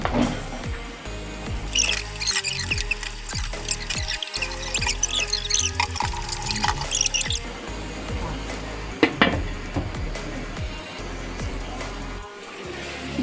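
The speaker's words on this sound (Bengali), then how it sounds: "মাংসগুলো দিয়ে দিচ্ছি আমরা।" Meat goes into a pot for Dhakaiya biryani, a busy, clattering mix of knocks, scrapes and wet sizzling with a burst of bright crackle partway through, all close and fairly loud.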